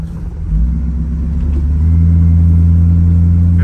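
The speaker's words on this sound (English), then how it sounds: "Try to do my best showing you it driving down the road." A 1963 Studebaker Avanti driving down the road, its engine a loud, steady low rumble that rises slightly as it picks up speed and then holds a constant drone.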